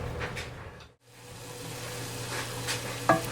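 Vegetables for bean with bacon soup sauté in a pot with a soft, continuous sizzle and occasional stirring, briefly dipping quiet before resuming, with a small clink near the end and no talk.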